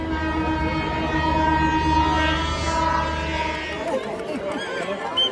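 A train pulling in at a crowded station platform, its horn sounding in sustained tones over rumbling wheels, with crowd chatter in the background and a voice talking.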